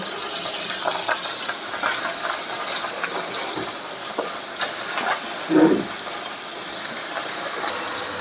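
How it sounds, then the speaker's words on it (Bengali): Prawns and onions frying together in a pan make a loud, continuous hiss and sizzle close by, with one brief heavier sputter partway through. "চিংড়িগুলোকে সুন্দর করে পেঁয়াজের সাথে একসাথে ভেজে নিয়েছি।"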